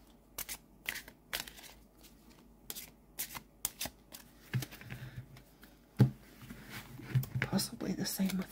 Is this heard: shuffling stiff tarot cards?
yes